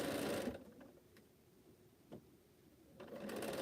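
Quilt block rows being sewn together on a sewing machine: short bursts of machine whir at the start and end, with a quieter stretch and a faint click in between.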